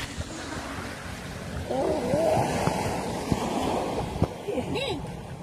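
Strong ocean waves wash in at a beach, a steady rushing surf with wind noise on the microphone, while someone talks over it and splashes sound nearby.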